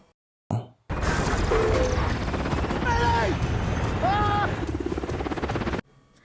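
A helicopter making an emergency landing in an action film scene, its loud continuous rotor and engine roar filling the scene, with brief tonal squeals and whines rising over it before it cuts off.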